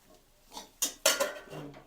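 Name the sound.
okra added to a pan on the stove, lid put on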